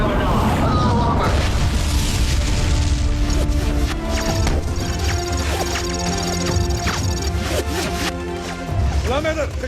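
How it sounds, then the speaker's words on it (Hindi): Heavy gunfire and explosions in a 1965 war film battle scene, dense loud booms and crashes layered under continuous music and shouted voices, staying intense for the whole stretch. "सर इस तरफ से हैवी फायर हो रहा है सर"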